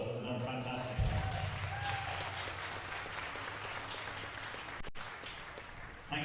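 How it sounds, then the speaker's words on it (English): Audience applause at a school fitness competition final, a broad wash of clapping at moderate level lasting several seconds, with some voices and background noise mixed in. "Give them a big round of applause."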